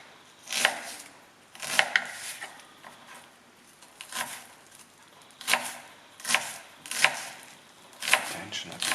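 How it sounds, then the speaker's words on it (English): Onions are chopped on a board for an eggplant risotto, about eight crisp knife chops at an unhurried, fairly even pace, close and clear with no speech over them. "We'll move over to the onions."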